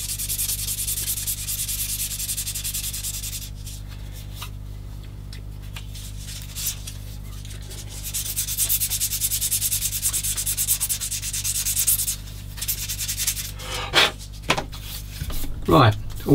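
Sandpaper rubs back and forth steadily over a plastic part of a 1/16 scale TAKOM M10 Achilles tank destroyer model, removing scratches and sink marks, with close, continuous scratchy strokes and a few light knocks near the end.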